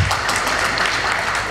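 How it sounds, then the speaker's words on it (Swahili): A seated audience at a tobacco stakeholders' meeting in Mara claps together in a short burst of dense, even applause, loud and close, with no voices over it. "Makofi."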